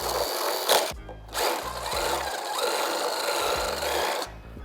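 A power drill drives a screw through PVC pipe into a 2x4 wood stud, in several short whirring bursts of a few seconds each, loud and close, with brief pauses between them.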